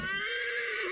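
A single loud, close horse neigh rings out for under a second, clear and alone, in Assassin's Creed Valhalla.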